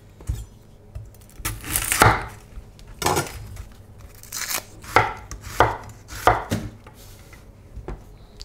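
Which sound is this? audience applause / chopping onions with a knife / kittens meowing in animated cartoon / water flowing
chopping onions with a knife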